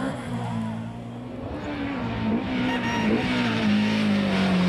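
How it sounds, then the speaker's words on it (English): A BMW M3 rally car on a stage of the 1997 Wexford Stages Rally holds a loud, steady engine drone that rises slowly in pitch, with a commentator talking over it. "Melvin Evans and Alan Davis slide their BMW M3 into 9th place with a bump or two on the way."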